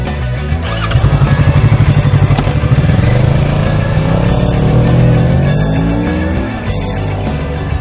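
A 2017 Kawasaki Ninja 650 parallel-twin engine runs loud and close, a steady throbbing rumble that rises and falls as the throttle is worked.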